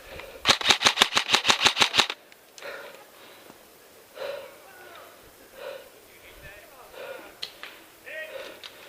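Airsoft guns rattle during an outdoor airsoft game, firing a rapid burst of about ten sharp cracks at the start, followed by quieter scattered sounds and players talking.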